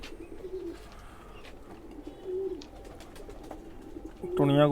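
Khaki Chua pigeons coo in a low, continuous murmur throughout, close by with background rustle, and a louder burst of calling near the end.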